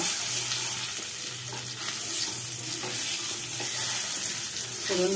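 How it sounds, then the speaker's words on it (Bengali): Cumin seeds and a bay leaf tempering in hot oil for a banana flower curry, a soft continuous sizzle with faint crackles and light stirring, close and unbroken with no voices. "জিরে আর তেজপাতাটা ফোড়ন"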